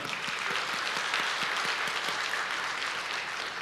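A church congregation gives sustained applause, a dense, steady wash of many hands clapping close by that fills the whole stretch without pause.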